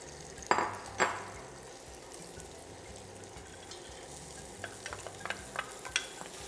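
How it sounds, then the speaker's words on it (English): Soaked channa and split peas are stirred into a curry mixture, with a couple of sharp scrapes at the start, then a faint low sizzle and a run of light clinks and scrapes toward the end. "You want to give this a good mix, ensuring to evenly coat all the Channa and peas with our curry mixture."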